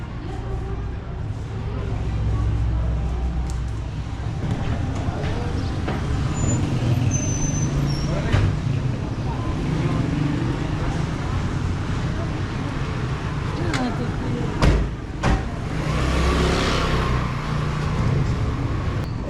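Street traffic in Taxco, Mexico, on narrow roads without footpaths: cars and buses rumble past close by, with engine swells, an air-brake hiss and occasional clatter, and people talking over it.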